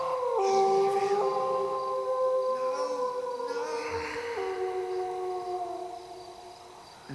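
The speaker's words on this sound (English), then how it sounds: "That was just a dog howling." A dog howls in the Shivers horror adventure game, several long wavering tones that slide and overlap, loud at first and slowly fading, with no voices.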